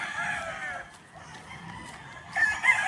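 Chickens at a gamefowl farm: a rooster crows, with clucking fowl nearby, the crow rising again toward the end over a faint background of farm noise.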